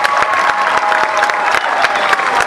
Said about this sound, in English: Make some noise for Caleb